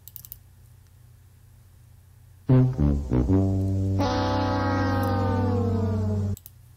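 The Price is Right sad trombone effect: a brassy, droning horn-like tone follows a few quick clattering hits, holding for a couple of seconds with a slightly sagging pitch before stopping.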